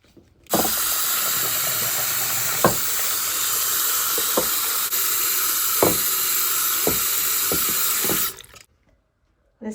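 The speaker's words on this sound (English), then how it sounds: "Now let's rinse it off." Tap water runs steadily, rinsing etching cream off a glass breadbox panel in a sink, a loud continuous splashing hiss with a few sharp knocks before it shuts off near the end.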